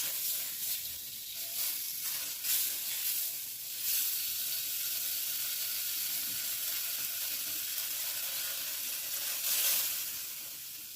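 Steady sizzling of chicken thighs frying in a pan, a constant hiss with soft crackles and occasional louder bursts, close up and without voices.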